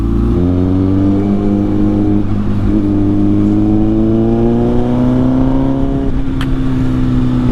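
A Honda Fireblade sport motorcycle's engine holds a loud, close, buzzing harmonic drone whose pitch climbs slowly as it revs, continuing steadily with no speech.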